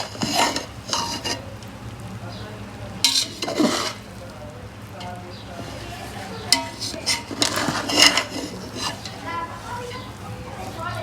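Chicken biryani rice being dished out, a spoon scraping and clinking against the pot in scattered bursts while a voice talks over the scooping.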